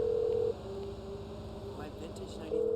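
Phone ringing out on a call in GTA 5, two steady electronic ring tones separated by a pause, with quiet game ambience between them.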